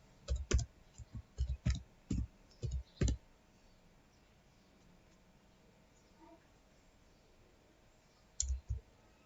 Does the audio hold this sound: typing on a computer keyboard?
yes